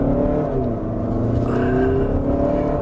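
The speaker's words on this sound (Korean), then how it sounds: "휠슬립이 좀 일어나네요" A Volkswagen Tiguan Allspace launching hard in sport mode, its engine note rising steadily and loud up close as the tyres briefly slip under acceleration, with no talking over it.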